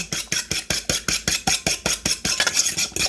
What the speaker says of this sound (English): I'm going to lightly mix those eggs.